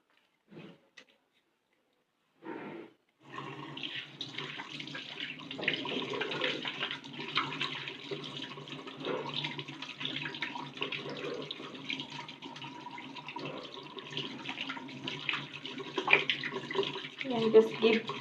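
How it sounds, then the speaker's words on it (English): A tap runs steadily while hands are washed with soap at a sink, a continuous splashing stream after a few brief knocks, with voices under the water. "soap and wash my hands well enough."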